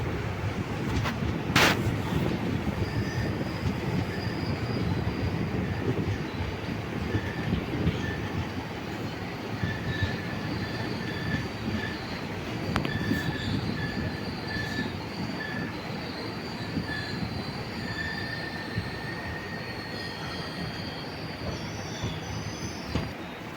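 A train pulls into Budalur railway station, with loud rumbling wheels, squealing brakes and faint clickety-clack that hold steady for over twenty seconds without talk.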